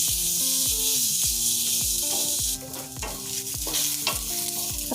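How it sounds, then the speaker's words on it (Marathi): Onion frying in a pan for an Indian paneer masala, with a steady sizzle under repeated scraping strokes of a spoon stirring it, close and continuous, no talk. "हे जरा तर चांगलाच भाजला पाहिजे कांदा,"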